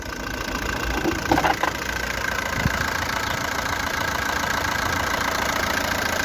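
An Opel Combo 1.7 car engine idles smoothly and evenly close by, a steady low hum with a few faint clicks near the start.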